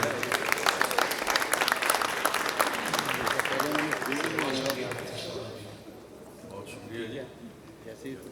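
An audience at a poetry gathering (mushaira) in Lahore applauds the poet Akhtar Shumar, a loud burst of clapping that fades away over several seconds, with a voice beginning to speak as it dies down.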